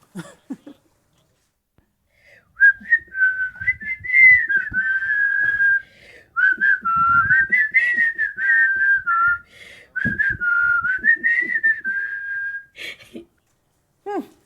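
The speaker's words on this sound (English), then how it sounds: "You definitely gave the whistle challenge a good go." Someone whistles a wavering, sliding tune in several long phrases, with short breaths and pauses between them.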